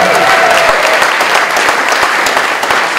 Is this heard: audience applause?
yes